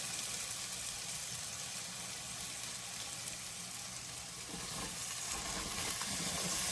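Snow peas going into a sizzling vegetable stir fry: a steady, bright sizzle and hiss fills the pan throughout, with a few soft clatters of stirring toward the end.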